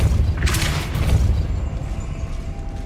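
Depulso spell cast in Hogwarts Legacy: a deep, rumbling booming burst with a brief bright crackle near the start, fading into a low rolling resonance.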